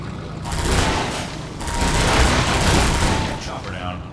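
Rapid automatic gunfire from the airboat gun in Half-Life 2, a loud sustained burst of fast shots with a short break partway through, battling a hunter chopper amid booming game effects.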